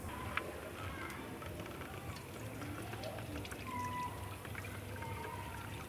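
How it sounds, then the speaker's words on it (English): Beef stock from a beef pilau with bone marrow poured through a sieve to separate the meat, a faint steady liquid pour and trickle with a few small clinks, fairly quiet. "now I want to sieve our meat. I want to separate the meat from the stock."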